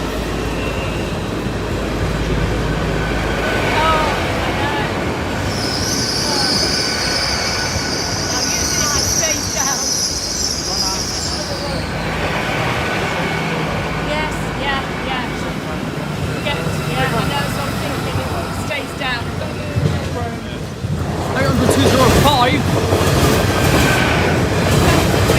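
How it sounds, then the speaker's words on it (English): A terminating train from London King's Cross approaches near Doncaster, a loud continuous rumble with clattering wheels and a high squeal, while people talk over it close by. "one approaching from the behind, which is the terminating train from London King's Cross"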